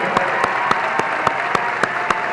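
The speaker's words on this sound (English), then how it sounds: "Give them a round of applause." An arena audience applauds new teachers and staff at a school welcome-back event, with steady, full clapping and a few sharper claps standing out at regular intervals over the crowd.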